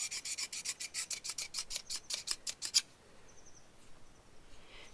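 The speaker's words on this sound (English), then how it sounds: "right now I'm sharpening this side right here" Quick, regular rasping strokes of a sharpener across a hoof knife blade repeat about a dozen times up close, then stop, leaving faint background with a few soft chirps.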